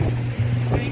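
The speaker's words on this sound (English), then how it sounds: "25 knots of wind, gusting to 35." Strong wind of 25 knots gusting to 35 roars across a sailboat under a reefed sail off Sabang, Indonesia, a loud steady rush with water noise beneath.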